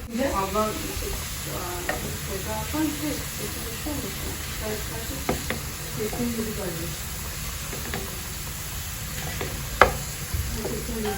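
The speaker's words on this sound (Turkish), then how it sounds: "Bunun bir tanesini güzelce kavuracağım." Minced meat, about 300 grams, fries in hot oil in a home kitchen pan, a steady sizzle broken by repeated scraping stirs and an occasional sharper clack, with faint talk in the background.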